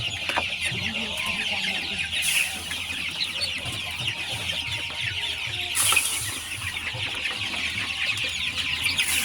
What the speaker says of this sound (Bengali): দেখুন আমাদের মুরগিগুলো কিন্তু মাশাআল্লাহ সবগুলো দূরে চলে আসছে খাবার খাওয়ার জন্য